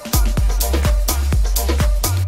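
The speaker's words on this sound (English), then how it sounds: "added some cool snares" Quantized snare and kick pattern in a groovy tech house track, punchy hits repeating on a tight steady grid over a sustained bass tone, loud and upfront with no talking.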